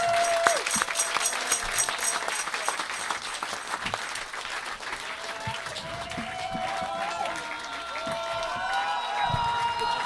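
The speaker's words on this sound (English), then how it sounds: "Let's have a round of applause for our sound engineers" An outdoor festival crowd at the Green Gathering applauds the sound engineers with sustained dense clapping, scattered cheers and whoops, loud and continuous across the whole stretch, with a voice audible now and then.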